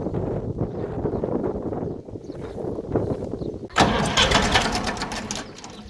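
A tractor engine turns over and catches, chugging unevenly, then a sharp clank and louder rattling as it revs up nearby.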